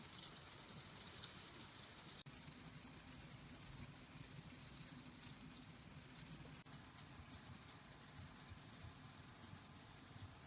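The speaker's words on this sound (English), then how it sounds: "Today is a rainy day." Rain falls steadily on a wet day, a faint, even hiss of drops with a low rumbling undertone, continuous throughout with no voices.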